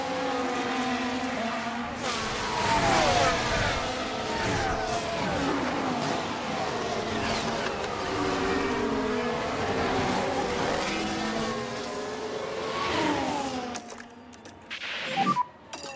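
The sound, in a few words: F1 race cars driving, from the video game F1 Manager 2013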